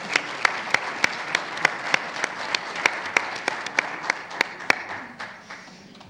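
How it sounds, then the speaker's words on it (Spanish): An audience at an open parliament session in Mexico claps in sharp, evenly spaced beats, like a small group in rhythm, then fades out toward the end. "Denle un aplauso a Xochitl."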